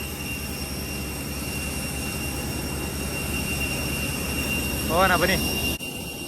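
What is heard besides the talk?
Rolls-Royce jet engine of a SriLankan Airlines plane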